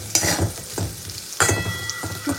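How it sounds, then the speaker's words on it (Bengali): Potatoes with figs fry in a pan with a bright, crackling sizzle, broken by a few louder bursts and scraping stirs, close and clear with no voices. "ডুমুরে আলুটাকে ভাজতে বসিয়ে দিয়েছি"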